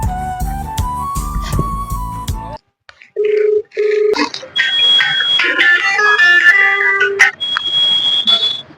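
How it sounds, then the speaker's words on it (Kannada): A mobile phone rings with a loud electronic ringtone, a run of bright repeating chiming notes that pauses briefly and then starts up again with a different melodic pattern. "ಏನು ನಮ್ಮ ದೋಸ್ತ ಫೋನ್ ಹಚ್ಚಿರತ್ರಿ"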